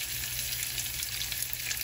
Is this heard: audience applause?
no